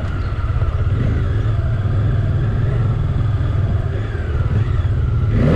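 A Bajaj Dominar 400 motorcycle engine while riding near Sundarijal gives a loud, steady low rumble with a constant drone and no pauses.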